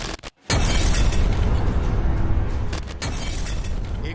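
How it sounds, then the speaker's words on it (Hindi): A sudden, loud blast fills the clip after a brief silence, followed by a sustained low rumble and roar that carries on to the end. "एक भयानक धमाका जिसने बहुत बड़ी आतंकी साजिश को धुआं धुआं कर दिया।"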